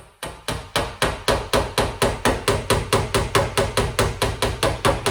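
A hammer strikes sheet metal in a steady, rapid series of about twenty moderate blows, easing out a panel that was pulled too far. The blows are close and sharp with short ringing decays, and no voice is heard.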